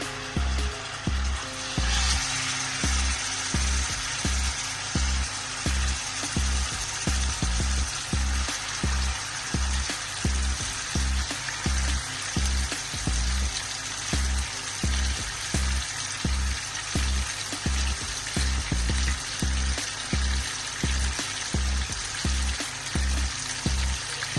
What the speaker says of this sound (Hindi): दरमियानी आग रखनी है, उसके अंदर हाफ कप ऑयल डालकर इसके अंदर हम चिकन शामिल कर देंगे।